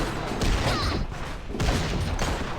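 Gunfire in a dwarf-themed video game match: a dense, continuous rattle of shots and booms, loud and close, running as a steady barrage with a brief dip near the middle.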